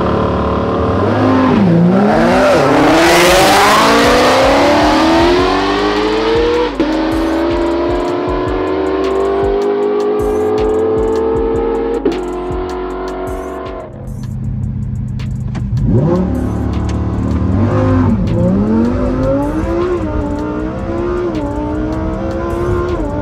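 Loud drag race between a Lamborghini Huracan STO and a 1000 HP Ford Mustang Shelby GT500, engines revving hard through rising gear shifts, roaring continuously with a brief dip before accelerating again.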